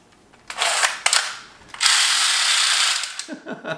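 A gun mechanism at a sportsman's expo is pulled back and cocked, producing two loud ratcheting bursts separated by a pause, followed by faint clicks.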